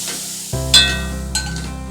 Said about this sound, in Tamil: அந்த எண்ணெயை எடுத்து இப்போ நம்ம ஊற்றி கலந்துக்கினே இருக்கணும்.